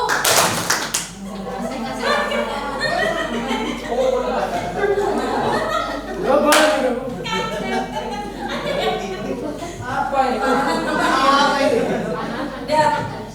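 A sharp burst of clapping from a group, then ongoing chatter and murmuring voices with a few scattered taps and thumps in a room.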